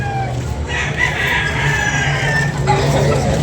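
A fighting rooster crows loudly and close by at a cockfight rooster sale in Carmen, Cebu, one drawn-out call with clucking from other fowl around it and no talk.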